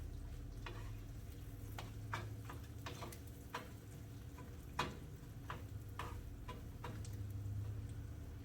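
Mashed potatoes are stirred into rendered-down fat in a pan for bubble and squeak. A soft, low sizzle runs beneath scattered spoon scrapes and taps that come at irregular intervals, close by, with no speech.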